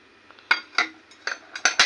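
Thick dinner plates clink against one another as they are handled, giving about six sharp, bright ceramic knocks in an uneven rhythm, close by and otherwise quiet.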